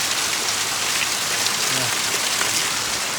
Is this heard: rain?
yes